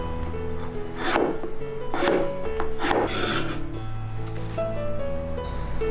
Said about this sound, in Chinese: 然后再来把茄子切成长条